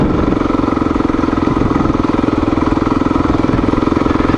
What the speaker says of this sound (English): if you're riding on gravel, you have to realize that the bike moves around a lot